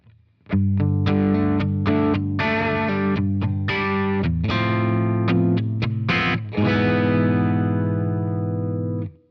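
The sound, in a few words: electric guitar through blues breaker overdrive pedal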